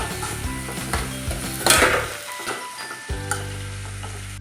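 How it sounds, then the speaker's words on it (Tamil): Onions and tomatoes sizzle and fry in a home kitchen pan with steady crackling, stirred now and then, with a brief louder burst of scraping midway and a quieter stretch before the frying picks up again. "வெங்காய தக்காளி நல்லா வதங்கிடுச்சு"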